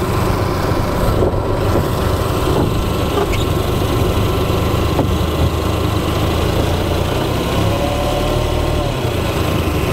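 Four-stroke engine idling steadily while its carburettors are synchronised, revs creeping up as a screw head is pressed: a continuous buzzy drone with faint ticking and small tonal shifts, no voices.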